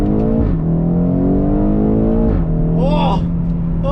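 A 2016 BMW X5M engine revs hard while accelerating from inside the cabin, a loud rising drone with gear-change dips, and a voice exclaims briefly over it.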